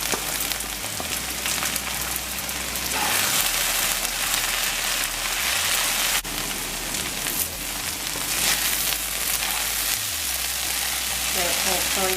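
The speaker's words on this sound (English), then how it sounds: "we're gonna continue to fry the okra until the okra is brown." Okra fries in oil in a pan, sizzling and crackling steadily, a dense hiss with occasional stirring noises, close by and without speech.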